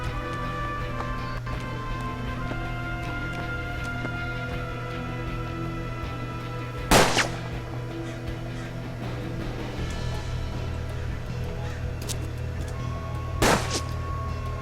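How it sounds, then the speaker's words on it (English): Gunfire crosses from both sides in the Western tactical video game Hard West. Two sharp, isolated shots crack several seconds apart over a steady, droning musical score. "This shooting from both sides is actually really nice."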